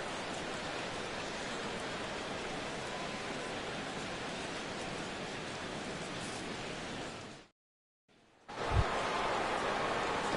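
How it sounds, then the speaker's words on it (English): Steady, dense hiss of rain falling over a baseball game in MLB The Show 17, Red Sox in the sixth inning, filling the clip before briefly cutting out near the end and then resuming. "Rain continues to fall here in the 6th."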